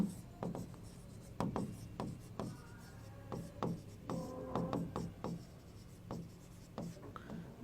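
Pen or chalk strokes scratch steadily across a writing surface during a chemistry class, in quick repeated rubbing strokes, close and fairly quiet, with no one talking over them.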